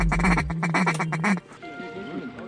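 Mallard duck quacking during a duck hunt, a loud run of rapid harsh quacks close by for over a second, then quieter background with faint voices talking.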